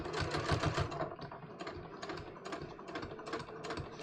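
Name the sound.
sewing machine stitching welt pocket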